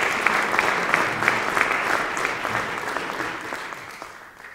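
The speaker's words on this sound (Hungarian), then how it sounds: "kérem köszöntsék őt is nagy tapssal." Warm audience applause at the Tour de Hongrie 2023 route presentation gala as the mayor of Budapest is welcomed, a thick, continuous clapping with a few sharper claps standing out, slowly easing off.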